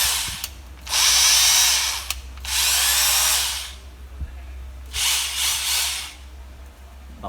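Three bursts of a Bosch 36V cordless concrete drill whirring at full speed, each about a second long, close and loud, with short pauses of quiet handling noise between them.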